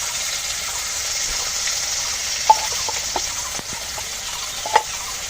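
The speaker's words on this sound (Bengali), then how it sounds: "সব মশলা দিয়ে আমি সুন্দর করে কষিয়ে নেব" Spice paste of turmeric, ginger, cumin, coriander and chili frying in oil in a pan, a steady soft sizzle broken by a few sharp clinks and taps, close by with no talking.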